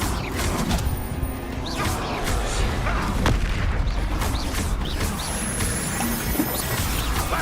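Confringo blasting spell explosions in the video game Hogwarts Legacy, repeated booming impacts and crashes across a dense, continuous battle din, loud and close.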